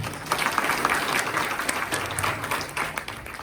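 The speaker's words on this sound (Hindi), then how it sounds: "मुख्य अतिथि महोदय के सम्मान में एक बार ताली बजा दी जाए।" A crowd applauds steadily for a few seconds in honor of the chief guest at an EPFO awareness ceremony at JCD Vidyapeeth, Sirsa, dense clapping from many hands at an even, lively pace.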